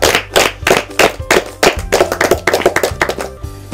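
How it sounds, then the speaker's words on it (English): A group of children clap for a classmate at a church kids' session, rapid, loud and fairly even claps overlapping into a short burst of applause close by. "let's clap for him."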